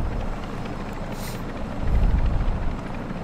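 A helicopter in Warzone 2.0 DMZ gives a steady low rotor rumble that holds throughout, swelling slightly louder toward the end, with brief game noises over it and no speech.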